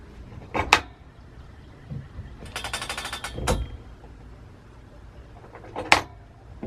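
Rollers on a longarm quilting machine are turned a little, giving a few sharp clunks and a short rattling burst in a quiet room, close by and separated by pauses.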